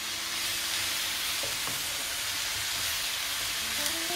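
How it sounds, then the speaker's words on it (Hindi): Vegetables for veg chow mein fry in a hot pan, giving a steady, loud sizzle with occasional stirring scrapes throughout, and no voices. "करीब 1 मिनट तक हम इसको अच्छे से फ्राई होने देंगे, सब्जियों का कच्चापन चला जाएगा तब तक।"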